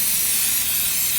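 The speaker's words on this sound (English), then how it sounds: "So what you need is that silicone lubricant. If you get the silicone spray," Silicone lubricant sprays from an aerosol can onto a car seatbelt in a steady, close hiss that lasts the whole short moment, with no talking.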